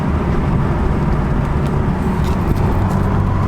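A BMW 428i M Sport with a deleted muffler and an 8-speed gearbox roars under acceleration, a loud, steady, close engine drone that fills the whole stretch without any talking.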